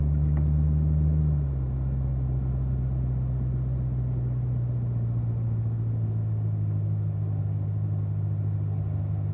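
A group of Corvette Z06 cars rolls through stop signs at a performance driving school, giving a steady low engine rumble that stays level and close for the whole stretch, with a brief higher pitch at the start.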